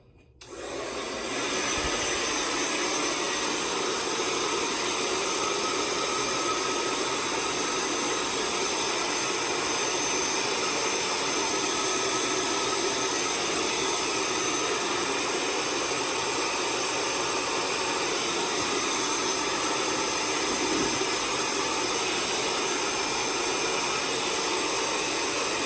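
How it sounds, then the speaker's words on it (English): An old hair dryer runs continuously for the whole stretch, a steady, loud whooshing motor hum that starts abruptly and never lets up. "My good old dryer."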